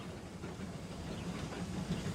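A heavy goods train on rails rumbles and clatters steadily, a faint, even rolling sound with a soft hiss and no voices.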